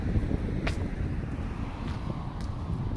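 Breeze buffets the microphone while walking around downtown Dartmouth: steady low rumbling wind noise throughout, with a few faint brief higher sounds in the background.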